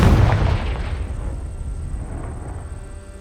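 A Confringo fire spell in the game Hogwarts Legacy bursts with one heavy, booming explosion right at the start, then a long rumbling decay fades away over a few seconds with a thin lingering ring.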